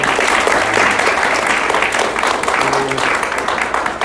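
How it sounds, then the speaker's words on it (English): A lecture audience gives a full, steady round of applause, dense clapping sustained throughout without fading. "Let's offer a round of applause."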